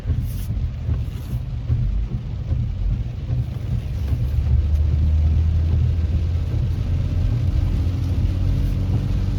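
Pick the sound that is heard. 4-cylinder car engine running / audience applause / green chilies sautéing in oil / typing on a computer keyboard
4-cylinder car engine running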